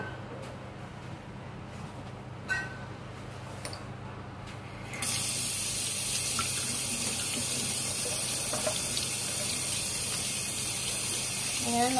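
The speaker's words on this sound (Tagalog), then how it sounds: "Ito siya guys, nilagyan ko siya ng tubig." Water runs from a tap into a cooking pot for steaming fish, a quiet room for the first few seconds, then a sudden, steady gushing stream that continues to the end.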